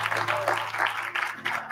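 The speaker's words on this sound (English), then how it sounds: "Come on, somebody give God a hand clap of praise for that." A congregation in a church sanctuary at a memorial service claps in praise, a steady wash of hand claps filling the room with a low hum beneath.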